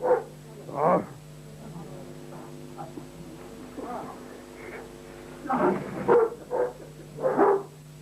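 Dog barking in a Turkish neighbourhood setting, several short barks or yips in bursts spread across the clip, moderately close, with people talking over and between them.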